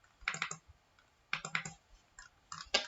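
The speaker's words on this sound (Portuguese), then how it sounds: "2 cliques com o scroll" Clusters of light plastic clicks from a computer mouse scroll wheel during Revit modeling work, coming in three short bursts of a few ticks each, close and fairly quiet, with no voice over them.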